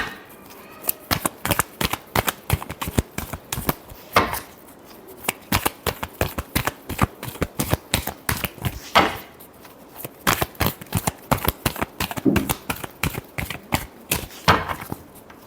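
Tarot cards being shuffled in a long run of rapid riffling bursts and crisp card slaps, close and fairly loud, with brief pauses between shuffles and no talking.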